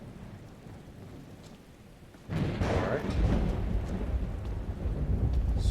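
Steady rain falls in the video game Skyrim Special Edition, rising suddenly from a soft patter to a louder, dense downpour with rumbling undertones; a voice speaks briefly.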